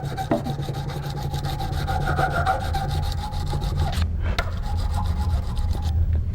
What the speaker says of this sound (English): Up and down, polish those north and south on the top of the extractor.